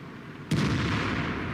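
A tank cannon fires in World of Tanks, a Jagdpanzer E 100, as a single loud, close blast about half a second in, followed by a long rumbling echo that trails off to the end.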